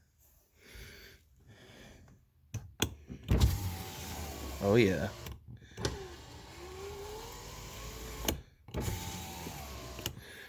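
A rear power window on a 2008 Nissan Rogue runs with a steady motor whine, starting and stopping a few times inside the car at close range, with a brief spoken remark and some handling noise around it.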